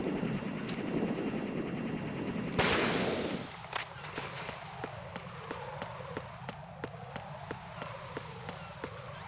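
Gunshots in Metal Gear Solid 2, a loud blast followed by a steady string of sharp, evenly spaced shots over an ongoing game background hum, with no one talking.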